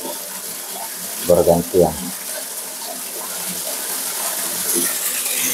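Water gushes steadily from a well water pump into a basin, a continuous wash of flow running throughout while someone speaks briefly in Indonesian near the start.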